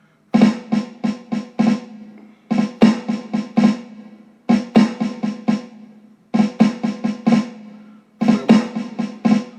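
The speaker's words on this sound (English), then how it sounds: "So we got flam accent, two notes, and then a regular flam." Flam accent rudiment on a snare drum: grace-note flams followed by two single strokes, repeated in crisp groups of hits separated by short pauses, close and loud with no talking.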